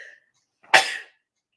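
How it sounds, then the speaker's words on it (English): A single sharp sneeze bursts out loudly after a brief faint voice, then fades into silence. "I'm going to sneeze."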